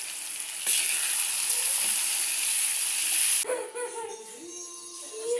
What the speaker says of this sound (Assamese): এইবাৰ এয়া বইল কৰি থোৱা পৰ্কখিনি মই ভাজিবলৈ লৈছোঁ।